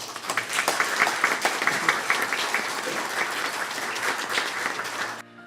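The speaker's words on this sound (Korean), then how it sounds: "함께 박수로 환영하겠습니다" A church congregation applauds warmly to welcome a lay preacher at a Sunday service, a full, steady round of clapping from many hands that stops abruptly near the end.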